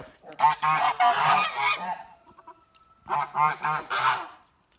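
Geese honk repeatedly in two noisy bursts, several birds calling over one another at close range, with a short quiet gap between.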